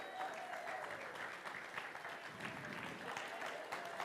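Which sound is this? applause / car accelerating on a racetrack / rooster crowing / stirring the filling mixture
applause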